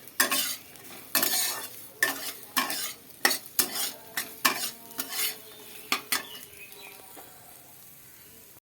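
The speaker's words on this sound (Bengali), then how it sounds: "কাঁঠালের আটি এই ফার্স্ট টাইম ভাজছি কতটা কি ভাজবো বুঝতে পারছি না" Jackfruit seeds fry in a pan while a utensil stirs them, giving a regular series of sharp scraping clatters about once a second over a low sizzle, close and loud, with no talking.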